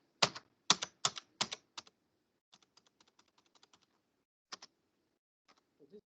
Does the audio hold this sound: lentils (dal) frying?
no